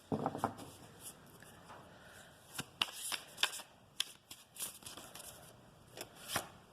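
Cards being shuffled in a series of crisp riffling bursts and soft flicks, close by, with quiet pauses between them.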